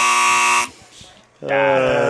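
A loud, harsh electronic buzzer blares for about half a second, drops out into a short gap, then sounds again just as loud, at a bar-trivia style game night.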